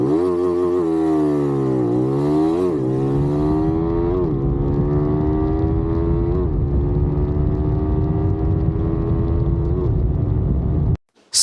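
A VOGE Q250 single-cylinder 250cc motorcycle rated at 21.5 kW accelerates hard toward 100 km/h. The loud, close engine note climbs in pitch through several gear changes, each marked by a brief drop before rising again, then cuts off abruptly.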